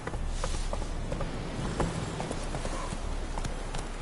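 Hooves of the horse Roach in The Witcher 3 clop in a quick, regular rhythm on hard ground, close and clear over a low ambient rumble.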